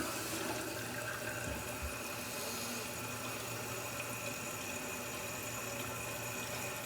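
An American Standard toilet tank fills with water after a repair, a steady close rush of running water and hiss continuing without pause, with no voices over it.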